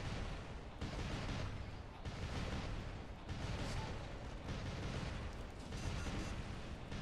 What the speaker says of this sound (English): I hit those others with the orbital strike there